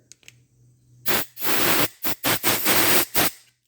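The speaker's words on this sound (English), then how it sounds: "I'm going to take my air compressor and spray it out." An air compressor nozzle blasts air into a small hole in the carburetor of a Kohler 7000 series engine on a zero-turn lawn mower, giving a series of loud hissing bursts, one long then several short, over a low hum.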